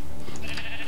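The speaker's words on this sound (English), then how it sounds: "There's a sheep hiding in the tree here." A sheep bleats in the video game Minecraft, a short, moderately loud game-sound bleat that stands alone without talk over it.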